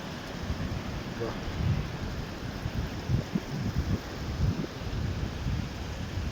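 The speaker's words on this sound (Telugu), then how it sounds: "Water falls, water sound." Waterfall water on the Kedarnath trek, among hills and trees in the early-morning dark, makes a continuous broad roar with deep rumbling surges, steady and close throughout.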